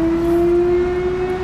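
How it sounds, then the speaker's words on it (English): An air raid siren in Ukraine holds a steady, sustained tone in the background, constant and moderately loud throughout, with no talk. "the sirens you hear in the background"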